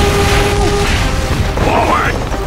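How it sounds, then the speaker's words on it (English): A rocket launcher explosion in Team Fortress 2: a loud, short, booming blast inside dense, constant battle noise, with a voice shouting over it. "Rocket launcher!"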